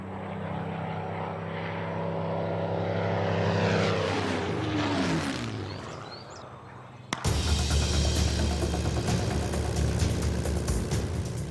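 A Supermarine Spitfire passing in flight during the Battle of Britain era, its propeller engine droning loud and close, rising and sweeping past with a pitch shift, then a sudden cut to a harsher, steady engine roar.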